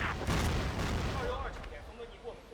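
Grenades burst in a Counter-Strike esports match as heavy rumbling blasts crowd the opening second, then fade into a lower, rolling din with scattered smaller pops.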